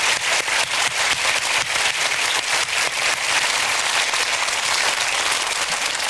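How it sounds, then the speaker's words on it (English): An audience gives a loud, steady round of applause as a woman volunteer comes up onto the stage, dense close clapping lasting several seconds with no talking. "Let's give her a nice big round of applause"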